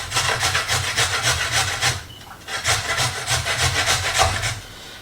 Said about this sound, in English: let me grate these carrots.